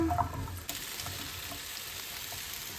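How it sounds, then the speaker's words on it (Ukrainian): Steady sizzling and crackling of meat frying in oil in a pan, with potatoes added, close and continuous, with a brief clatter near the start. "тут м'ясо вже смажиться"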